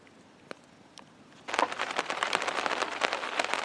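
Rain on a tarp shelter at night begins suddenly partway through, a dense, steady patter of drops striking the fabric after a few isolated taps, loud and close with no voices.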